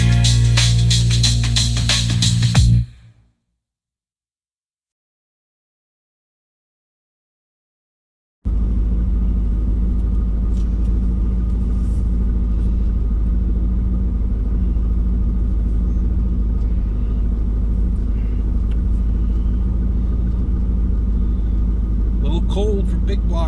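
A big block engine runs in cold weather, a steady deep rumble holding loud and even for most of the stretch after a brief burst of sound and several seconds of silence.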